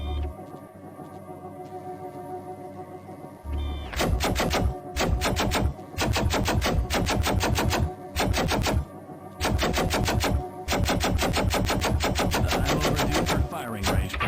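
Rapid bursts of automatic gunfire at a firing range in the video game Gunman Chronicles, several long loud volleys separated by short pauses after a quiet opening.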